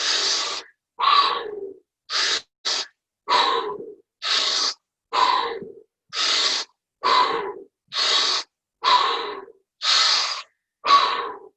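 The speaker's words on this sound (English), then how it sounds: "breathing in strongly through the mouth and breathing out through the mouth and back onto the in-breath" Strong breathwork breaths in and out through the mouth, heard as about fourteen loud, close, evenly paced rushing gusts separated by short pauses, with no talking.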